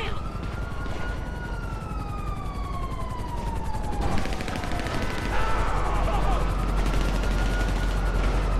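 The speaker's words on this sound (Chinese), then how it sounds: "随便开枪。" Gunfire in the video game GTA Online, with rapid repeated shots running through most of the stretch alongside a wailing police siren, loud and busy game audio.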